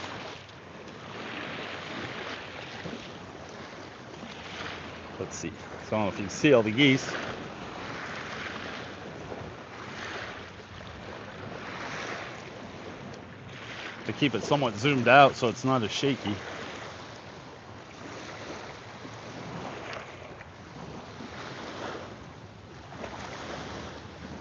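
Waves lap steadily on Mille Lacs Lake in Minnesota, with wind buffeting the microphone while someone talks over the water throughout.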